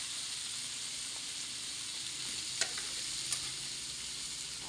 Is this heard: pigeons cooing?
no